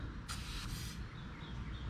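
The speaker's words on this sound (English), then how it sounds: "Go ahead and spray down these 2 bolts." Penetrating spray hisses onto two bolts under a raised GMC Acadia during starter removal, one close, steady burst of under a second over a low garage hum.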